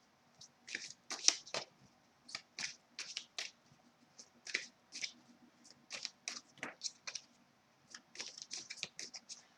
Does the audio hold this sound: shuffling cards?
yes